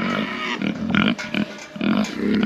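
Pigs grunting and snorting on a small DIY farm, a steady series of close, rough grunts overlapping one another with brief pauses, no talk.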